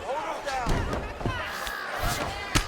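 A crowd roars and cheers in a UFC fight simulation video game during a bantamweight bout, a steady loud wash of arena noise with a few thuds and a commentator talking over it.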